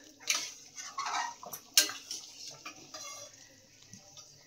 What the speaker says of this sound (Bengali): আর জোরে থালার আওয়াজ হলো